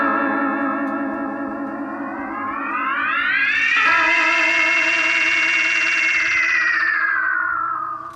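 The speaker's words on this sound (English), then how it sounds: "with the use of the pedals, we can make lots and lots of silly sounds with the electric guitar" An electric guitar note, played through effects pedals in a small recording studio, swells and sweeps upward through heavy effects, sustained with a warbling, echoing tone before slowly fading.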